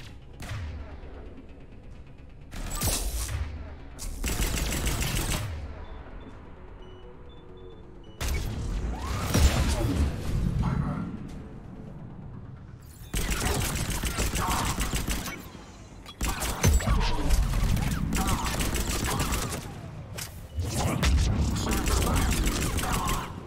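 Repeated bursts of turret gunfire and explosions in the video game Mass Effect 3, loud and dense, arriving in several long volleys separated by brief lulls, with a voice talking faintly underneath.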